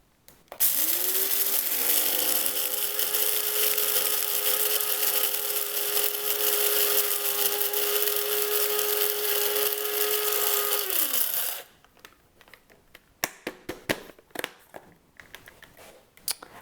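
An electric coffee grinder grinds dried rose petals and herbs in one steady high whine lasting about eleven seconds, loud and close, then stops, followed by a few light tapping and clattering knocks.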